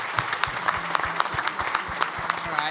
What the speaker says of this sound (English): can I please get a round of applause for our amazing panel tonight?